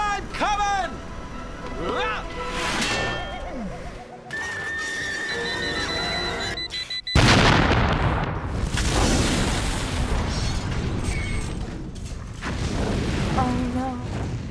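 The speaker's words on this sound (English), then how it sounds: "Claw sends Penny off in a cart with a bomb strapped to it" A sudden loud bomb blast from the Inspector Gadget 2 movie soundtrack erupts mid-scene and rumbles on, amid horse whinnies, whistles, music and voices talking.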